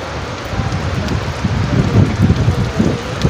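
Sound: heavy rain falling in a field

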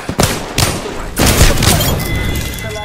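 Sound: gunfire in the video game Apex Legends

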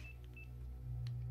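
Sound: telephone keypad dialing tones in a horror video game

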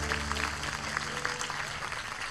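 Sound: audience applause for the orchestra

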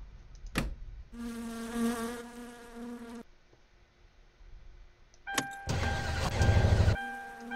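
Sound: car engine cranking, failing to start, video game My Summer Car

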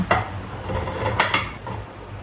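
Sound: carrots dropped into a cooking pot

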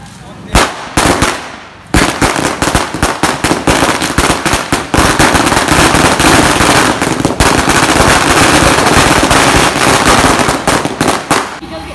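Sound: firecrackers exploding at a Diwali village celebration

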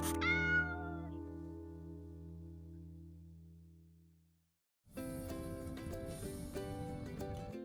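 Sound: cats meowing at a cat garden

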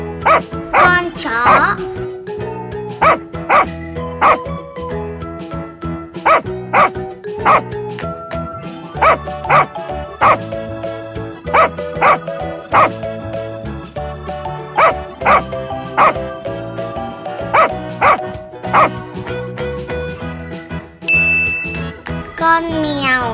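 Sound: dog barking

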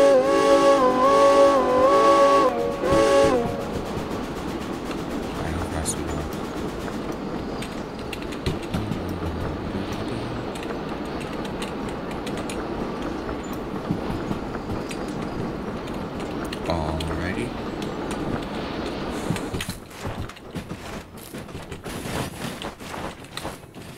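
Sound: steam train running in video game Derail Valley

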